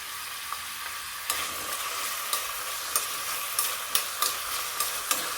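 Vegetables including carrot fry in oil for pasta, giving a steady low sizzle punctuated by regular scraping strokes of a spatula stirring the pan, close and clear.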